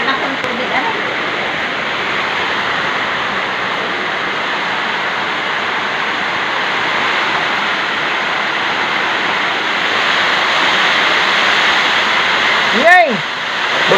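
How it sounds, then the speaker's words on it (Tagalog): Strong super typhoon wind and heavy rain roar as a dense, steady wash of noise close to the listener, with a short sharp bump near the end. "lakas ang hangin."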